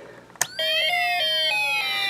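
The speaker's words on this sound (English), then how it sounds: "the speaker's audio is coming from both the alarm IC and our music IC, so it's all kind of mixed in there together." Snap Circuits alarm IC and music IC driving a small speaker together: a sharp click, then a loud, steady electronic tone blend of siren-like sweeps and chiming melody notes, continuous and close.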